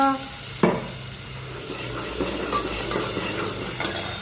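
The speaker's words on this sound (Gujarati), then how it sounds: "મરચું નાખી દીધું છે અને હળદર ને બધું અને ડુંગળી ટમેટાનો વઘાર થઈ ગયો છે" An onion and tomato tempering with chilli and turmeric sizzles in a hot pan while a utensil scrapes and stirs, with a metallic clink at the start and steady crackling throughout.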